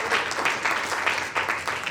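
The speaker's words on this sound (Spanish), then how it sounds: "Denle ese fuerte ese aplauso al Señor." A church congregation applauds together in a steady, dense clapping that fills the room, loud and sustained without a break.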